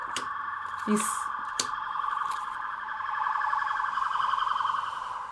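A wailing siren drones steadily in the distance, with a few brief clicks and knocks nearby.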